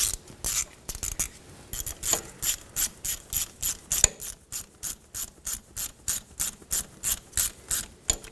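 Ratchet clicking in steady bursts while tightening the ABS sensor bolt on a 2007-2017 Ford Expedition front wheel hub, roughly twenty even strokes of close, crisp pawl ticks with no talking.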